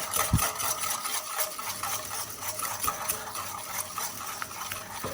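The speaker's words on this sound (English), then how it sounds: "I'm going to start adding in my oil" Thick paste being stirred in a bowl as oil is gradually poured in, giving a steady wet scraping and churning texture with soft clinks, continuous and close, with no talking.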